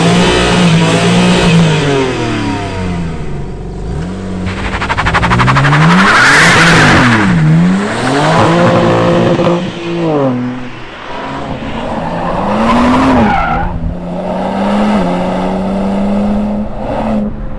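A 2021 BMW M3 Competition G80 accelerates hard with its engine revving up and down through several surges, tires skidding and squealing, loud and close throughout.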